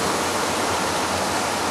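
Heavy monsoon rain pours steadily over flooded streets, a dense, even roar of hiss and splatter with no breaks, close and loud throughout.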